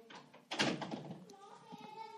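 A door closes in a home with a brief thump and rattle, heard close against faint background and followed by soft indistinct voices.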